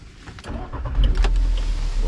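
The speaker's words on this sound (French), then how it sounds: "Je vais démarrer la voiture." A car engine starts with a brief cranking whir, then catches and settles into a steady, loud idle with a deep rumble, heard close up during a battery and charging test.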